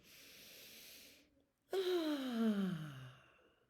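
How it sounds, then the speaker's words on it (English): Slow deep breath: a soft drawn-in inhale, a brief pause, then a loud, long, sighing exhale that tails off, close to the microphone. "take a deep breath one last time"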